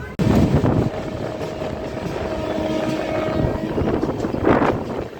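Ratnachal Express passenger train running on rails after departing Rajahmundry, a steady rumbling roll with a long tonal whine in the middle and wind noise, loud and close throughout.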